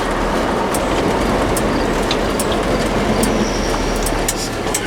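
A square body Chevy S10 pickup with a clutch still wearing in drives along, its engine and road noise forming a loud, steady rumble from inside the cab, with no talking.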